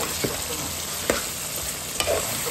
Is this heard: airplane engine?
no